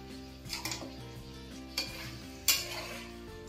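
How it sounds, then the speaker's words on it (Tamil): Chicken coated in biryani masala is stirred in a pressure cooker, with a spoon scraping and clanking against the metal pot in several distinct knocks over a faint, low sizzle. "பாருங்கள் இந்த அளவுக்கு நம்ம நல்லா மிக்ஸ் பண்ணி விட்டுட்டோம் சிக்கனு."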